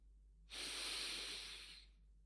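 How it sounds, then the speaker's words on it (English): One deep inhaled breath during a guided meditation, a close, soft airy hiss lasting just over a second in an otherwise quiet room. "Take a deep breath in"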